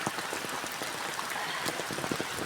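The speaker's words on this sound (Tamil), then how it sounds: "செம மழை" Heavy rain pours during a village flood, a dense, steady hiss of countless drops that holds at an even level throughout, with no voices.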